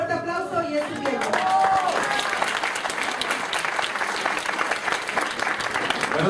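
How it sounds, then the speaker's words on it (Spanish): Loud audience applause fills a hall at a motivational talk, steady dense clapping from start to finish with a voice briefly heard at the beginning. "Un fuerte aplauso y es su tiempo."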